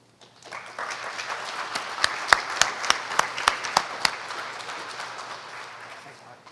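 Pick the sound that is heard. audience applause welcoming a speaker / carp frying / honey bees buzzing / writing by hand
audience applause welcoming a speaker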